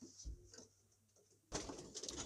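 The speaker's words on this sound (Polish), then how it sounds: "obecnie są tutaj gołębie" Racing pigeons coo softly inside a wooden loft compartment, giving a couple of low, close, quiet coos with faint rustling in between.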